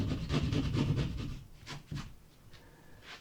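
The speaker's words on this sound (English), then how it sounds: "I flip the saw over and I cut to the beginning" A hand saw cuts through gypsum drywall in a basement, giving a close, steady raspy sawing rhythm of repeated strokes that thins out and turns intermittent toward the end.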